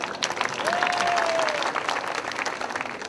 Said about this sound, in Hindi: तालियां बजाइए दोबारा।